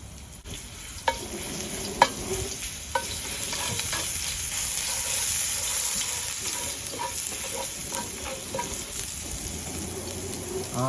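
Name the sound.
garlic stir frying in oil in a wok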